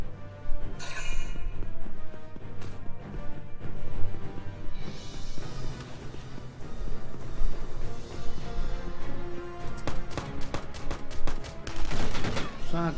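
Gunfire in Valkyria Chronicles 4 video game, steady rattling shots and crashes throughout under background music, building to a dense rapid volley of loud cracks near the end.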